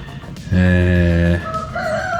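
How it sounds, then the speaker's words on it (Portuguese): A rooster crows loudly and close by in one long, harmonic call, with a softer clucking or second call trailing after it against a steady background hum. "O galo tá cantando alto, hein?"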